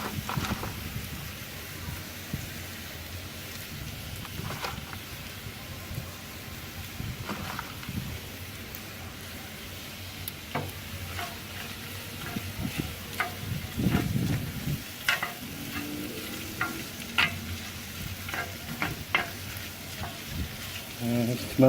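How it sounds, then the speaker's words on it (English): Bacon added to a pan for smoked cheesy bacon shrimp, sizzling with a soft, rain-like crackle throughout, broken by scattered pops and clinks and one louder bump midway, heard close and moderately quiet. "I'm gonna add a little bacon in here to get a little bit of flavor."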